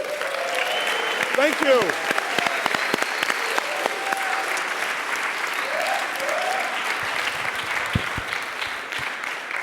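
A crowd at a hip hop lecture applauds steadily for the lecturer, with scattered voices and whoops over the clapping and someone speaking briefly.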